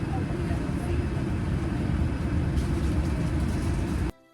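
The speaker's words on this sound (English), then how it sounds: "Flight attendants, prepare for takeoff." Passenger airplane engines at takeoff, a loud steady low roar with broadband rushing noise that holds level for about four seconds, then cuts off abruptly.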